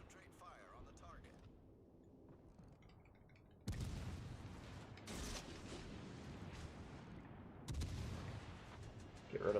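Naval gunfire explosions in the World of Warships Legends video game: a quiet stretch gives way to sudden heavy booms and sustained blasts, with several sharp loud bursts layered over a rumbling battle background.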